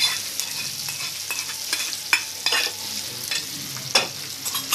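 Onion tomato chutney stirred in a pan, with a spoon scraping and clinking in irregular strokes over a soft, steady sizzle, close by and without talk.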